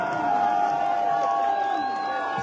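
Crowd cheering and whooping at an outdoor political campaign rally in Franceville, a steady dense roar of voices held at a loud, even level throughout, with a sustained tonal drone running beneath the crowd noise.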